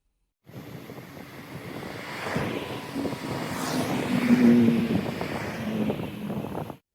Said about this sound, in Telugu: చూడండి, మనకు కావాల్సిన బస్ అయితే వచ్చేస్తుంది